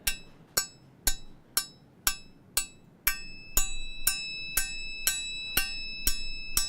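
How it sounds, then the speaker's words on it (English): Percussive pings from a Resonestor physical-model synth module, about a dozen evenly spaced, bright metallic hits with short decays, some ringing into sustained tones, alone and fairly quiet. "Fun percussive little sounds coming out of the Resonestor, which has quite a nice little physical model there."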